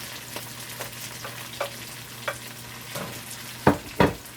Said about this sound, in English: I'm gonna add the onions and the green onions right now.